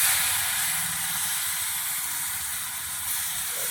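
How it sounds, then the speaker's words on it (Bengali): Radish pieces and black cumin seeds frying in hot oil for a fish curry, giving a steady close hiss and sizzle that holds evenly throughout with no talk. "এটা ভালো করে ভেজে নিচ্ছি"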